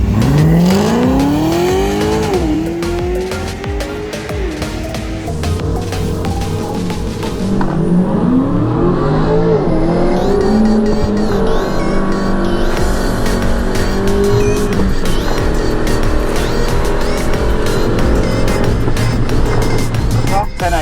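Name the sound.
race cars racing on a track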